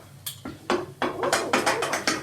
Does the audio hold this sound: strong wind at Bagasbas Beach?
no